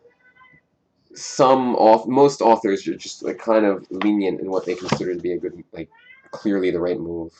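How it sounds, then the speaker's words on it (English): A pet cat meows in the background, a few short cries under a person's steady nearby talking. "Hope you guys can hear my cat meowing in the background."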